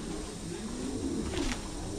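A male Thai Titan meat pigeon coos nearby, with a low, soft warbling call running steadily over quiet background noise.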